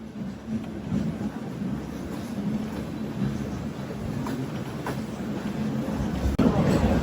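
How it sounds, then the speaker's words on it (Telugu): WAP7 electric locomotive slowly pulling a passenger train on the Visakhapatnam to Araku line in monsoon weather, a steady low rumble and rolling rattle of wheels, continuous and moderately loud. "అండ్ మన వ్యాప్ 7 లోకోమోటివ్ స్లోగా పుల్ చేస్తుంది."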